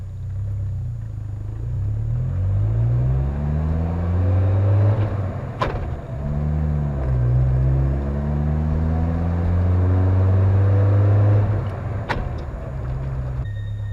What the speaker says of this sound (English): when shifting normally you get a grind or a rake into